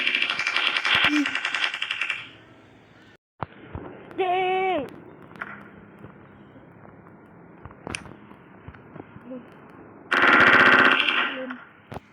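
Rapid bursts of gunfire from a weapon in the Melon Playground video game, loud clusters of fire at the start and again near the end, with scattered single shots and a short rising electronic tone between them.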